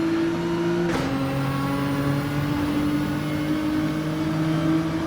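Race cars in a racing video game, including a Mazda RX-7 at Tsukuba Circuit, accelerate out of a chicane with a steady, loud, close whining engine drone that shifts pitch once, then holds a constant tone.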